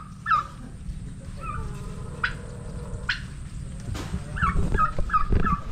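Several turkeys gobble in bursts over a steady low rumble of background noise, with a few sharper calls near the end.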